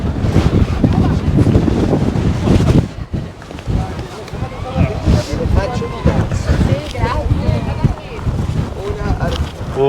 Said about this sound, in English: Oh, it can push you. The wind can push you.